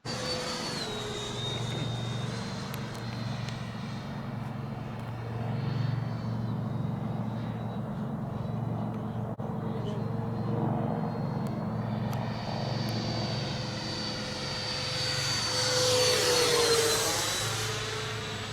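A Freewing MiG-29 model jet, apparently running on its right engine only, whines steadily with a high-pitched tone, its pitch sliding down and back up as the throttle changes, loud and fairly close, no voices.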